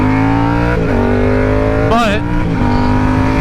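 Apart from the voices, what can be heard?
Yamaha R7 motorcycle engine accelerating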